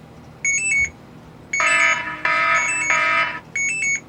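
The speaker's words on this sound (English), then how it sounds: "We've got the alarm working." Repeated electronic alarm beeps from a Cycliq Fly12 bike camera's Android app, in short bursts, a high two-tone chirp alternating with a longer, richer buzzing tone, fairly close and steady with no talking.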